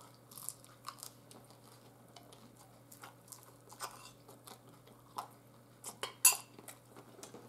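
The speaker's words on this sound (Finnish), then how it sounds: "meikäläisen on päiväpuuron syönti menossa tässä justi" Spoon scraping and clinking in a bowl of porridge, with soft chewing in between; quiet, close, irregular taps and one sharper clink, no talking.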